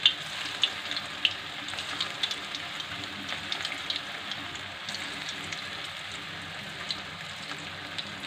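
Veg manchurian balls, about a dozen, frying in oil over a medium flame, giving a steady hissing sizzle with faint crackles and pops throughout, fairly quiet and without talk.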